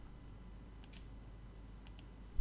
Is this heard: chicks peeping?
no